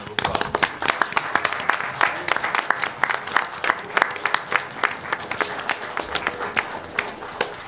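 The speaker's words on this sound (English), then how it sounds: "we're going to give y'all a round of applause" Audience at a city council meeting applauding young summer-jobs workers, steady dense clapping from many hands across the room, continuous and fairly loud throughout.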